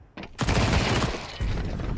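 Submachine-gun fire in Counter-Strike 2 during a pro match, dense overlapping bursts of rapid shots that start abruptly and stay loud and continuous throughout.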